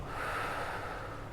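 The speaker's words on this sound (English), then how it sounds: "Now a shallow breath, breathe out" A single shallow breath is pushed out steadily during a stress-relief breathing exercise, a close, airy rush lasting just over a second with no speech.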